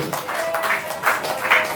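An audience applauds the woman artist Wati Respati at an art talk event: a steady, dense patter of many hands, fairly loud and sustained throughout, with no talk over it.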